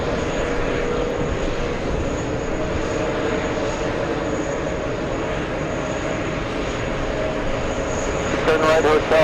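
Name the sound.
large British Airways airliner taking off at JFK airport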